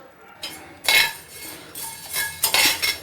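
Coriander seeds dry-roast in a pan while a spatula stirs them, giving intermittent bursts of rattling, scraping and metallic clinks over a quiet background.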